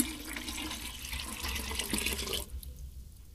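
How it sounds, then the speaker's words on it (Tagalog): Water pours steadily into a percolator during a repair job, a close, continuous broadband splashing and trickling that stops abruptly near the end, leaving only faint room noise. "lalagyan natin ng tubig"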